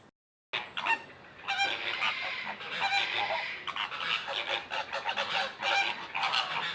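Dense bird calls from a park housing over 3,000 birds, with goose-like honks and fowl cackles overlapping continuously and fairly close after a brief silent start.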